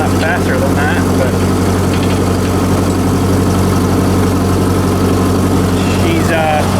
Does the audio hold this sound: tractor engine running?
yes